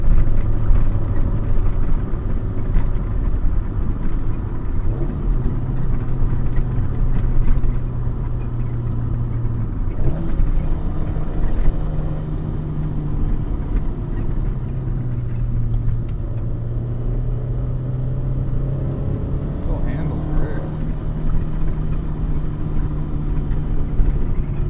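A 1988 Acura Integra with a 5-speed manual drives along, its engine droning steadily under a broad road rumble, with pitch rising and falling as the revs shift.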